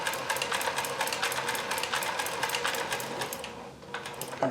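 A Kenmore 158.1040 sewing machine running a zigzag stretch stitch with a Singer zigzag attachment, a close, fast, steady mechanical chatter that pauses briefly before starting up again, with no talk.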